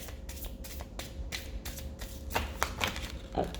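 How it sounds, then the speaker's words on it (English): A Gummy Bear tarot card deck riffle shuffled by hand, giving a string of quick papery riffles and taps in short bursts, close up and fairly quiet. "We'll riffle shuffle once a few more times."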